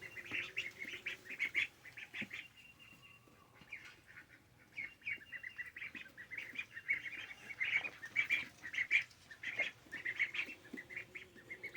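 Small ducklings give soft, rapid peeping calls in an outdoor yard, steady chirps rising and falling across the clip with a few faint flutters, fairly quiet with no talk.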